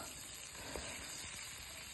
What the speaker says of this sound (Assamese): তেলতে দিলোঁ কেঁচা জলকীয়া 2টা